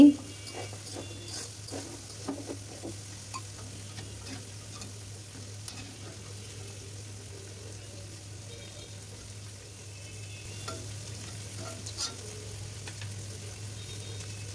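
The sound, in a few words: eggplant fritters deep frying in oil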